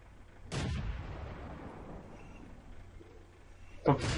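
Two tank gun shots from the World of Tanks video game, one near the start and one near the end, each a sharp boom over a low background rumble.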